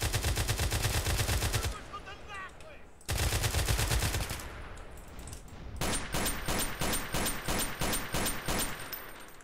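Rapid automatic gunfire bursts in a GTA multiplayer battle, loud sustained volleys broken by short pauses and then quicker repeated shots, with some game voice sounds faintly underneath.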